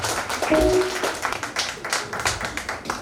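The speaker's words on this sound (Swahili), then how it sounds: "Let us give them a mighty clap" A church audience gives a round of applause for a praise and worship team, producing a dense, steady patter of many hands clapping at moderate volume, with a few brief tonal sounds early on.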